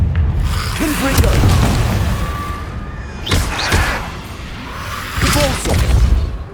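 In the game Hogwarts Legacy, the Confringo spell is cast, setting off repeated booming blasts and crackling fire effects amid clattering game sounds.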